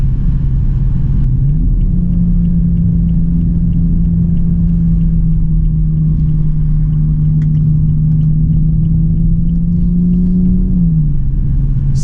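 A 2015 BMW M235i drives at part throttle, its engine droning loudly and steadily from inside the cabin, rising slightly in pitch early on and dropping back near the end.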